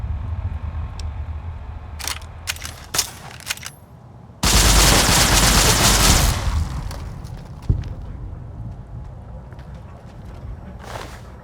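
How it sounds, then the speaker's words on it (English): Sharp, isolated BB gun shots in Fallout: New Vegas ring out one at a time with irregular gaps, followed by a loud, sustained burst of noise partway through and a few more scattered clicks afterward. "Shooting me with a BB gun?"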